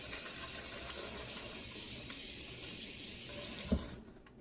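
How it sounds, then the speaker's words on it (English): A kitchen water tap runs while hands are washed beneath it, a steady close hiss of flowing water with a brief splashing knock before the stream shuts off. "And I'm going to wash my hands."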